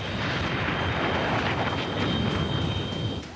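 A MiG-21 fighter jet roars in a loud, continuous wash of engine noise with a thin high whine running through it, sustained and close throughout.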